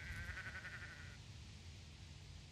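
A sheep bleats in the fantasy role-playing game Sudeki, one short wavering call over a quiet, constant background hum, heard without speech.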